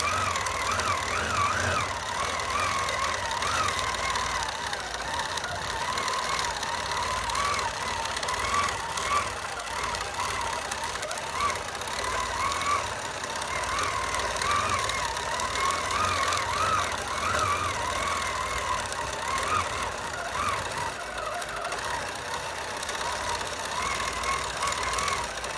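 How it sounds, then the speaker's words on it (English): Sewing machine quilting fabric, a steady fast mechanical whirr with a constant rhythmic chatter running unbroken throughout, close and moderately loud with no talk. "I'm just going to keep on quilting. Just come down and fill this area."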